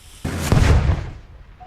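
Dynamite goes off in a digging video game: a sudden loud blast rolling into a booming, crackling burst that swells briefly and then decays into a fading rumble, alone with no talking.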